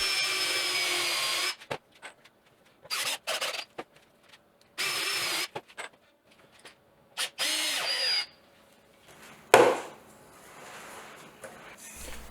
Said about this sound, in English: pre-drill for 1 3/4 inch deck screws